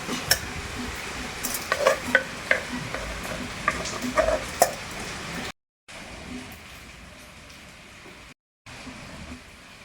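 Nalleru (Cissus quadrangularis) paste and tamarind stirred into a pan with fried sesame seeds and chillies, giving scraping spoon-on-pan clinks and a soft sizzle for about five seconds, then quieter kitchen background.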